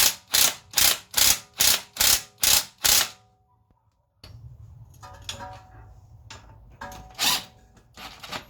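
A ratchet wrench with an extension bar works on a Ford Mondeo ST220 rear top mount, giving seven loud, evenly spaced ratcheting clicks up close, then a pause, shuffling handling noise and a few more scattered clicks.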